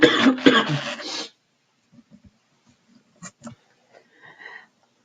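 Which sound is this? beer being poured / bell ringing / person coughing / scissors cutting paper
person coughing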